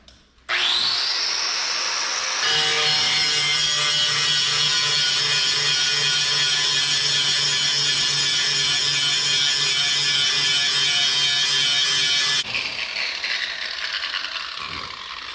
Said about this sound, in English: what I'm going to do next is grind off all that powder coat